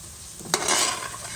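Shrimp and toothfish curry with saffron stirred in a hot pan, one sharp utensil clack against the pot followed by a close, steady sizzle with a scraping stir.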